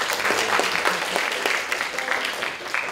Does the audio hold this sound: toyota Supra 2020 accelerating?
no